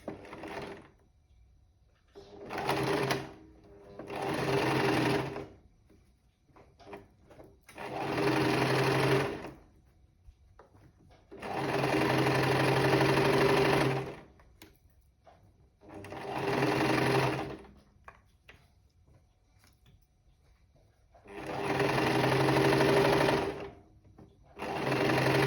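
A sewing machine stitches in repeated bursts of a few seconds each, with short pauses between runs. The whirring is close and steady while it runs.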